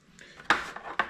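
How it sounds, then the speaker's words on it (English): Pork chops are flipped over in a dish with a utensil, making two or three soft, close clinks and taps against the dish in a quiet kitchen. "I'm gonna flip it over, let it soak in the rest of that."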